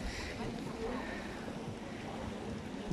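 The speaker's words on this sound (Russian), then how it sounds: "Катер." A motorboat on the water near a pool in Rostov-on-Don sounds as a faint, steady low drone blended with wind and water wash.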